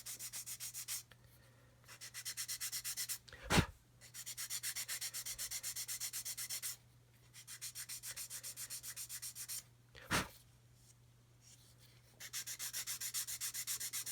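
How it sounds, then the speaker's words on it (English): A plastic model panel on a 1/32 OV-10 Bronco kit is sanded flush to a brass edge, with close rhythmic scraping strokes in steady bursts separated by short pauses and a couple of sharp knocks. "sand this plastic away up to the edge of the brass"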